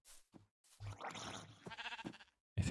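A Minecraft sheep gives several short, quiet bleats in a broken rhythm, separated by brief gaps of near silence.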